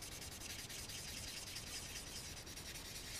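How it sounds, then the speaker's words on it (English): Close, quiet sanding of a primed resin anime figure with fine-grit sandpaper, a continuous rapid back-and-forth rasp with no voices. "And I'm gonna sand a little"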